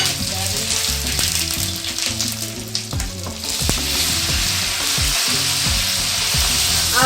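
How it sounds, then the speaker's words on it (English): Fish fries in hot oil in a wok for a stir-fry pasta dish, giving a loud continuous sizzle and crackle, with scattered metallic scrapes and knocks from stirring throughout. "our fish is frying."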